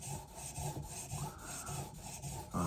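A knife blade drawn back and forth across a 400 grit sharpening stone, making a close, steady rhythmic rasping scrape with repeated strokes and no talk.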